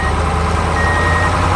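An orange truck is loaded with precious fossils, its engine running loud and steady with a constant low rumble and a thin reversing-type beep tone running through it, with no voices.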